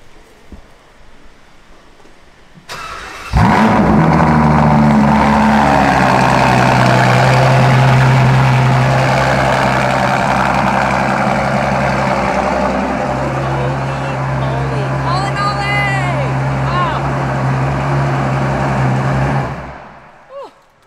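A car engine is started with a push start-stop button, firing up at once and then settling into a steady, loud idle held close by for most of the time before it cuts off. A voice talks briefly over it.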